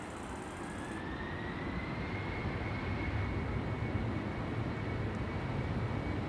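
A Pretty Hopper jet at Amsterdam Schiphol airport spools up its engines, a steady broad roar with a thin whine rising gradually in pitch, heard from a distance with no voices.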